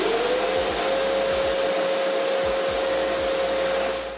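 A Ridgid 3-gallon, 3.5 peak horsepower wet/dry shop vacuum runs with a loud, steady airy roar and a rising motor whine that settles into a constant tone, close up, with faint low thumps beneath.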